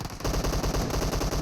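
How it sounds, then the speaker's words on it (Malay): Rapid automatic gunfire from a competitive esports video game match, loud and continuous bursts of shots with a dense, pounding rhythm throughout. "Mereka melepaskan tembakan."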